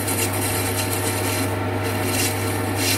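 A parting tool on a lathe cuts into metal, giving a continuous loud scraping rasp over a steady low motor hum, close and unbroken, with no speech.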